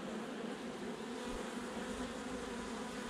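A relocated honeybee colony in Paraguay, bees docile enough to stir with bare fingers, fills the space with a dense, steady buzzing hum that stays close and continuous throughout, with no voices over it.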